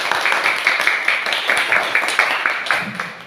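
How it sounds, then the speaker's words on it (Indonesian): Brisk clapping from a primary school class fills the classroom, a steady patter of many hands lasting a few seconds. "Tepuk tangan."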